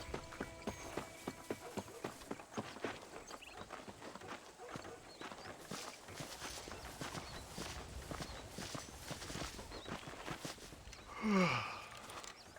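Horse hooves clip-clop steadily while riding in the video game Red Dead Redemption, a close, continuous rhythmic trotting that lasts throughout, ending with a brief whinny-like cry near the end.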